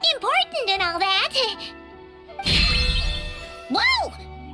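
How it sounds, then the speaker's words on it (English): A magical alarm bell rings suddenly in Genshin Impact, a bright clanging burst that cuts in between character voices, with animated speech before and after it. "Why is the bell ringing all of a sudden?"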